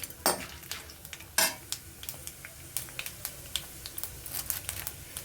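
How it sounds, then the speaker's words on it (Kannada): Cumin, chana dal, urad dal and dried red chillies sizzle in hot oil for an ivy gourd stir fry, with light crackling and frequent sharp clicks and scrapes of stirring, close up. "ಸ್ವಲ್ಪ ಫ್ರೈ ಮಾಡ್ಕೋಬೇಕು, ಕೆಂಪಾಗುವಷ್ಟು."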